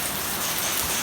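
Steady rain falls after a solar eclipse, a dense even hiss of drops filling the whole moment without pause, close and moderately loud with no voices.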